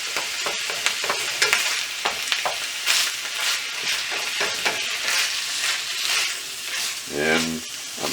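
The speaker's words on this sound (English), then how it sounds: "And so I'm going to heat it up again in this frying pan" Beaver meat being reheated in a frying pan, with a soft steady sizzle and repeated scraping stirs of a utensil against the pan, close and fairly quiet.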